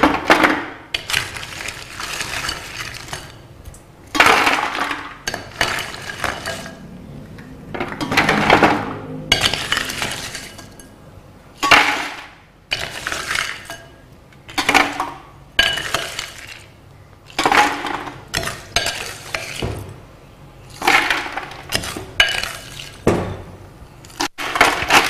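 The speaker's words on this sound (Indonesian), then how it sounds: "Kita isi es batu." Ice cubes tumbling into a single juice dispenser (Maksindo MKS-DSP11), a run of loud, irregular glassy clinks and rattles in repeated bursts, close by with no talk.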